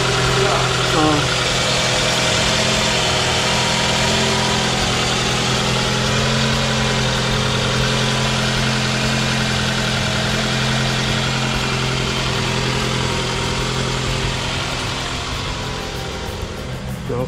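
A 2009 Toyota Camry engine with a newly replaced starter runs at a steady idle, a continuous close hum with a low drone that fades slightly near the end.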